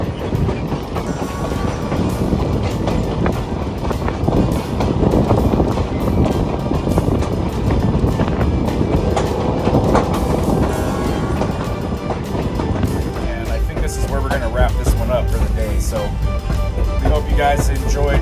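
Historic Grand Canyon Railway passenger train rolling along at steady speed, with continuous rumbling wheel-on-rail noise and intermittent clickety-clack, loud and close from inside the carriage; wind noise rushes over the microphone and voices murmur faintly beneath.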